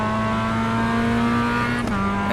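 Manual transmission car engine holding a steady droning note near the microphone, with a brief shift in pitch as it drops a gear near the end.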